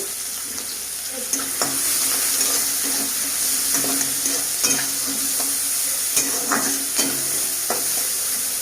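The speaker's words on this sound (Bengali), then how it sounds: "পেঁয়াজটা ভাজা হয়ে গেছে" Onions fry in a pan at home with a steady, close sizzle, broken by regular scraping and clinking strokes of a spatula as they are stirred.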